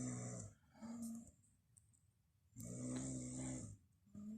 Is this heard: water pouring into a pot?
no